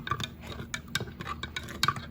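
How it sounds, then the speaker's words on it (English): A spoon scrapes and clinks around a pot while stirring a sugar mixture, a quiet, steady, irregular rhythm of small taps and scrapes. "Now we can give that a stir."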